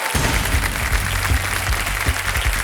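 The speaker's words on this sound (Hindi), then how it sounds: "मैं चाहता हूं कि जोरदार तालियों के साथ उनका स्वागत किया जाए" Steady applause from a TV quiz show studio audience, a continuous dense patter of clapping that stays fairly loud throughout.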